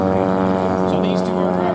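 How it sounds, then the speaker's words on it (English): Propeller aircraft departing from the Roswell air races: a loud, steady, close engine drone with a strong rumbling hum that holds for the whole moment. "So these two aircraft will be departing."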